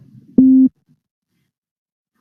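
A pure sine wave synth tone generated in Reaper sounds alone as a single steady, clean held note lasting about a third of a second, with quiet background before it and near silence after.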